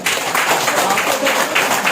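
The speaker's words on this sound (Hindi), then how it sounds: "अच्छा आपने जोरदार ताली सर के लिए" An audience at a DXN business event gives a strong round of applause for a guest speaker, a dense continuous wash of clapping filling the room at a steady level.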